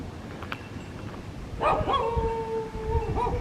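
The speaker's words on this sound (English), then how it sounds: "It's a dog doing his job." A dog on a street in Scammon, Kansas lets out a long, sustained howl that rises over steady outdoor background noise, with a few faint yips before it. The dog is moderately distant.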